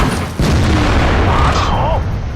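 Tank cannon shot in World of Tanks, a loud, close boom up front followed by a sustained rumble and a faint whistling tone.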